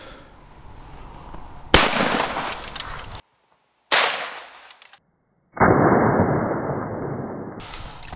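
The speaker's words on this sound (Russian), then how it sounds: "Стреляем патроном магнум." A single sharp shotgun blast from a magnum cartridge in a 70 mm chamber bursts out, followed by abrupt cuts and a long rushing noise outdoors.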